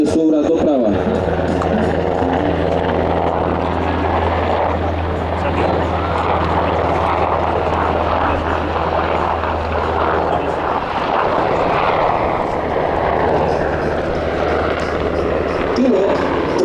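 A UH-60M Black Hawk helicopter of the Slovak Air Force performs a dynamic flight display at NATO Days in Ostrava, its rotor and turbine roar loud and continuous while a commentator talks over the air show.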